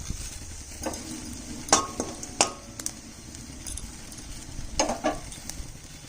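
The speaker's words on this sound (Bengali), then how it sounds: "এই তেলের মধ্যেই একটা শুকনো লঙ্কা, একটু জিরা ফোড়ন দেবো।" A dried red chilli and cumin seeds hit hot oil left from frying fish head and tail, giving a steady sizzle with sharp crackles and a few clinks of a utensil against the pan, close by with no talk.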